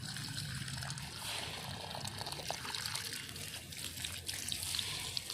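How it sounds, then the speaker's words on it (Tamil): Water runs from a pipe into garden plant beds, making a steady, soft, continuous trickling rush with no pauses and no talking. "நம்ம இப்போ வந்து தண்ணி போட்டு விட்டாச்சு பைப்லேருந்து"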